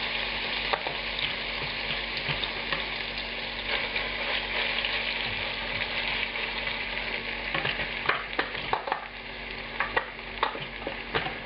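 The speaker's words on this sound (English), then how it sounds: "And there's some sizzling, but it's not the explosive Mount Vesuvius of reactions like with usual tomato sauces." Ragu ingredients fry in oil in a pan with a steady, dense sizzle and crackle, close and continuous, with brief stirring clatters scattered through it.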